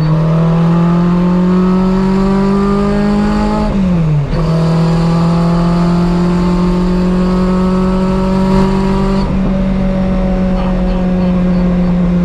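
A Renault 5 Maxi Turbo engine held loud and close at about 4000 rpm, a steady droning roar with a brief dip and recovery partway through, then holding even again.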